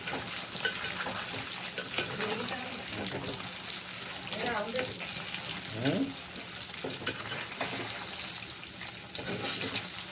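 Chicken pieces with ginger paste sizzle steadily in a pan while browning for Bhimavaram-style chicken pickle, a constant crackling fry broken by occasional stirring and soft speech.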